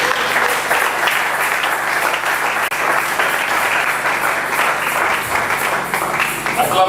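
A church congregation at a Sunday worship service applauds and cheers in a loud, sustained wash of clapping. Voices rise within the crowd noise throughout.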